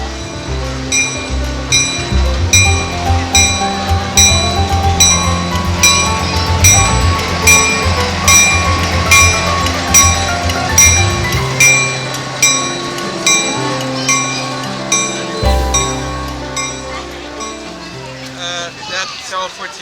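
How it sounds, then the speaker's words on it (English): Strasburg Railroad train pulled by the Mavis engine rolls past close and loud, with steady rumbling, clinking and rhythmic clickety-clack of wheels over rail joints, and a voice talking over part of it. "Mavis with her train."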